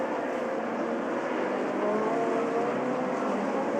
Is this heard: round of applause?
no